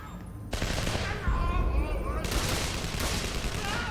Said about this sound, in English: Could you please ask them to stop shooting at me?